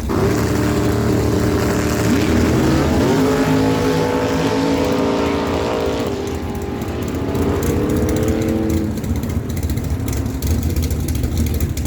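Drag racing dragsters at Miramichi Dragway, including a red front-engine dragster, with a loud continuous engine roar whose pitch climbs and falls as the cars run, then dissolves into rough rumbling noise.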